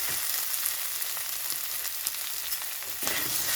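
Flat beans and potatoes frying in a pan give off a close, steady sizzle and crackle, with a few sharper pops and a brief stir near the end.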